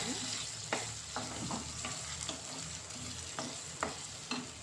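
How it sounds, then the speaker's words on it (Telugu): Ginger paste and chopped tomatoes fry for a cucumber-drumstick tomato curry. A continuous close sizzle runs under repeated scraping stirs of a spatula against the pan, coming in regular strokes. "ఇందులో కట్ చేసుకున్న టమాటాలు కూడా వేసేసుకున్నాను"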